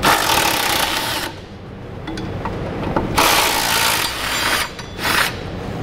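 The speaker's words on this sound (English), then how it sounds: "We'll need a 14-millimeter socket, and we'll just back out the two bolts holding each one in" A 14 mm socket on a ratchet backs out the tow loop bolts on a 2006 Lexus RX 330, giving bursts of rapid, close, scratchy clicking broken by short pauses, with no talking.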